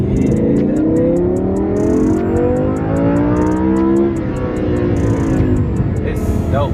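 A Lamborghini Huracan engine rev rises steadily in pitch for about four seconds, then drops and settles into a loud idle. It is close and sustained, with periodic clicking ticks on top.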